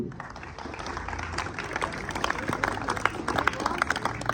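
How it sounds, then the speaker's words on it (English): Audience applause at an award ceremony where trophies and medals are handed out, a moderate, continuous spread of clapping from a crowd, somewhat distant, with faint voices and stage noise mixed in. "So again clapping for all of you."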